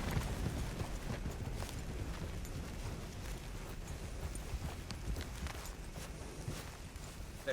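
Horses' hooves clip-clop at a steady walk over ground in the Red Dead Redemption 2 video game, a faint, continuous rhythmic patter set against an outdoor ambience.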